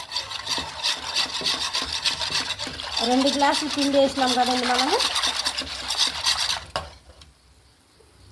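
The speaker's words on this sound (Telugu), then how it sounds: "ఇలా ఇసుక రొట్టి తీసుకొని మనము నీట్గా బొబ్బుల్స్ లేకుండా కలిపేసుకుందాం" A steady gritty rasping and scraping of flour batter being mixed by hand in a vessel to break up lumps, close up, with someone talking over part of it before it stops near the end.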